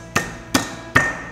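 Three sharp, evenly spaced thuds ring out as a knife blade smashes garlic cloves on a kitchen board while pasta ingredients are prepared.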